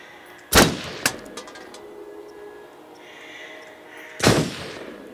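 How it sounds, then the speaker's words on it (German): Two sharp, loud gunshots about four seconds apart in the video game Until Dawn, fired at sandbags and cans, with quieter clicks and a low ambient hum in between. "Auf Sandsäcke schießen"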